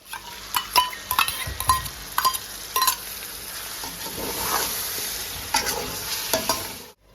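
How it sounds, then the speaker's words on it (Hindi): Mutton masala with yogurt frying in a pan, a steady sizzle broken by repeated sharp metal spoon scrapes and clinks against the pan while stirring, close and with no talk. "इनको अच्छे से हम तकरीबन 10 से 15 मिनट भूनेंगे"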